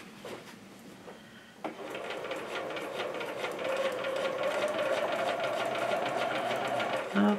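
A sewing machine stitches along the original seam of denim bell-bottom jeans, its steady motor hum running continuously from about the second mark to the end, with a brief pause and a short louder burst near the finish.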